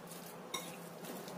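Ingredients are stirred in a bowl with sugar added to the mix, giving soft continuous scraping and swishing, with one small clink of a utensil against the bowl partway through.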